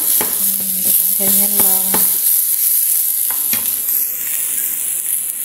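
Eggplant sizzling and frying in a pan as a utensil stirs it, with steady frying hiss throughout, a few tonal clinks and brief sounds early, and a short spoken phrase near the end.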